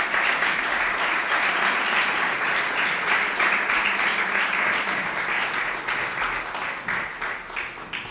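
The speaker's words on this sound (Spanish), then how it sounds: "Un aplauso para ellos, por favor." Audience at an anniversary inauguration event applauds speakers, steady dense clapping throughout, fairly loud and even, easing slightly toward the end.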